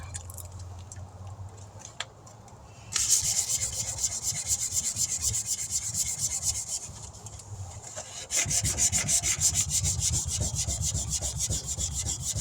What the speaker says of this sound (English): So we're sanding that back down.